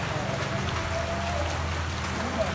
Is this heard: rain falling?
yes